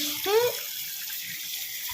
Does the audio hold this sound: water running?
yes